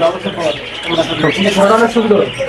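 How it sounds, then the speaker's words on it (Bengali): Budgerigars chirp in a bird shop, with bright, rapid twittering calls mixed with someone talking over them nearby. "এখানে একজোড়া ক্লাসিক মিউজিশিয়ানের বাজিকার দেখতে পাচ্ছি, সেম কালারের, বিগ সাইজ"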